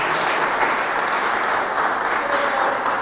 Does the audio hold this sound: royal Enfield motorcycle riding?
no